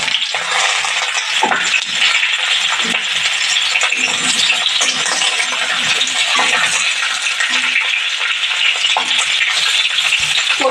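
Chopped ridge gourd sizzles in hot oil tempered with dried red chilli, bay leaf and nigella seeds, a loud continuous crackling fry with scattered clinks and scrapes of stirring throughout, no talking.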